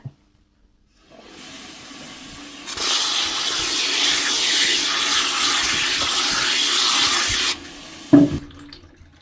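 Water poured steadily over mung bean sprouts growing in a container, a loud continuous hissing splash lasting several seconds before stopping abruptly, followed by a brief knock.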